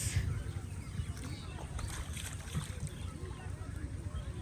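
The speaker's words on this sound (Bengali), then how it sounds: "নৌকা আছে দেখো" Low, steady motor rumble of a boat moving on water, with wind buffeting the microphone and voices faintly in the background.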